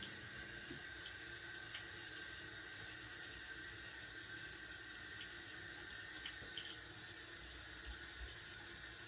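Tap water runs steadily into a sink while freshly scrubbed dresser handles from a mid-century furniture makeover are rinsed, a continuous hiss with faint small knocks and no talking.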